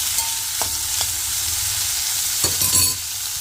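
Long beans sizzling and frying in a pan with salt, a steady hiss with occasional stirring clatters from a utensil.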